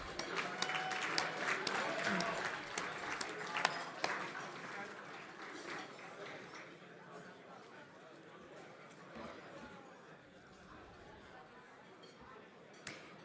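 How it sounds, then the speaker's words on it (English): Applause from a gala audience at an M&A awards evening, a dense patter of clapping that is loudest at first and gradually thins and fades, with faint chatter underneath. "Round of applause."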